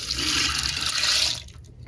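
Water gushes and splashes steadily for a little over a second, then stops abruptly, leaving quiet background.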